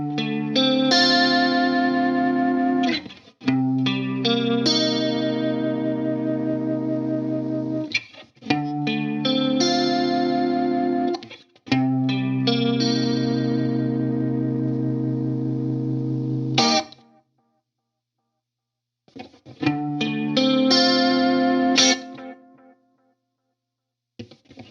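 Clean electric guitar run through a chorus pedal, with shimmering, wavering strummed chords in several sustained phrases separated by short pauses and one longer silence, and no voice present.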